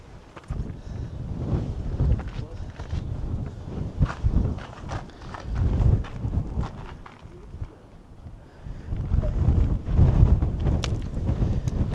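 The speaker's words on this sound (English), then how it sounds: "The wind is a little disconcerting. Windy, ain't it?" Strong gusty wind buffets the microphone at a cliffside pueblo in an Arizona national monument, rising and falling in loud roaring surges with footsteps scuffing beneath.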